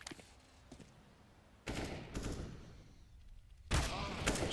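Counter-Strike gunfire during a professional SK vs OpTic match at IEM Oakland 2017, heard as faint early shots followed by two loud bursts of rapid automatic fire, with a caster commentating over the action.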